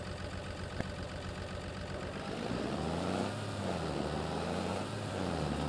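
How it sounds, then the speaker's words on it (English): JCB Fastrac tractor engine idling, a steady low rumble heard from inside the cab, with the throb deepening and strengthening partway through and holding at a constant level after that, no talking. "So we'll be using our JCB fast track for this work. So here we are in our JCB tractor."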